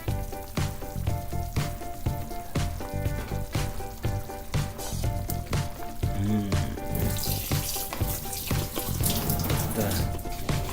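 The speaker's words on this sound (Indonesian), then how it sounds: "Diaduk. Isinya ada wortel, ada kentang, ada kol, ada daging." Kebab filling of carrot, potato, cabbage and meat stirred in a pan, a steady sizzling fry with scraping, stirring strokes, hissing louder toward the end, with no talk.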